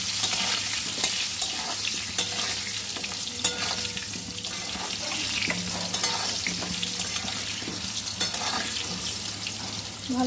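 Potatoes and chicken seasoned with turmeric and salt fry steadily in a pan until browned, a continuous sizzle broken by scraping stirs and occasional clinks, with faint running water in the background.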